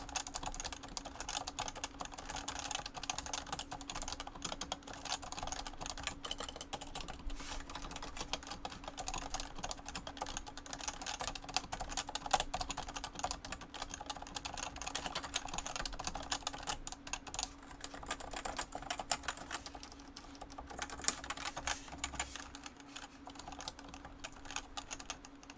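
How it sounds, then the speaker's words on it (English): Continuous typing on a Realforce 87U keyboard with 45-gram switches, a steady dense patter of keystrokes at close range, shifting between softer and louder presses with no voices. "So here's typing, softer typing. And loud typing."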